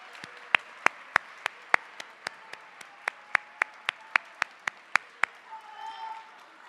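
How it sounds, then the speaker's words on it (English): Rhythmic, evenly spaced single hand claps ring out in a school auditorium during an eighth grade promotion ceremony, about seventeen sharp claps before fading into faint room murmur. "So let's give them a big round of applause"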